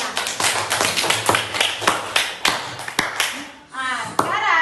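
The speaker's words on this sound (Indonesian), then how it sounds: "coba tepuk tangan untuk semuanya" Students in a classroom clapping for everyone, a few loud, distinct hand claps in an irregular rhythm close by, fading out and followed by a person speaking.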